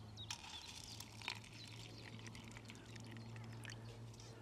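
Undiluted 3% hydrogen peroxide is poured over cucumber seeds in a container, a faint, continuous trickle with a few soft splashes, heard alone at low level.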